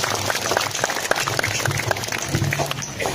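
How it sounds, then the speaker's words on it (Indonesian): An audience at a religious talk claps in a loose, scattered burst of applause, moderately loud and steady, with faint voices murmuring underneath. "Tepuk tangan dong."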